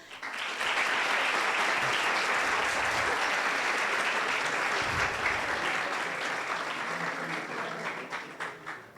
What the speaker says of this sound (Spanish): Para ellos les pido un gran aplauso